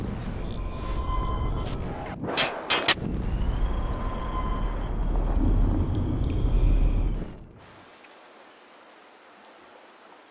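Gunshots at a rusty barrel in the video game Life Is Strange: a couple of sharp cracks over a loud rumbling ambience, which then drops away to a quiet hiss.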